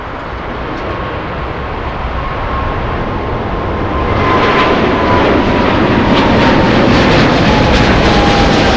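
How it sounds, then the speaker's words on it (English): A China Airlines airliner on the move at LAX, its engine roar building and growing louder partway through, with a thin whining tone running over the steady rumble and no voices. "Let's go over to China Airlines"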